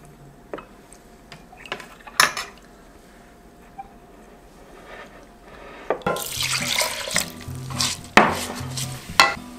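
Water runs from a tap to measure 400 ml for five-grain rice: a few light clicks and handling knocks at first, then a loud, rushing stream for the last few seconds.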